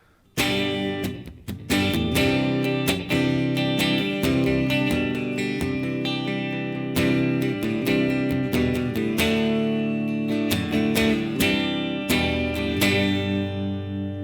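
Clean-toned IYV Emerald electric guitar playing a steady run of plucked notes and chords, bright and ringing, close and fairly loud with no voices.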